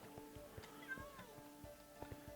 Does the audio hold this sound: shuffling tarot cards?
no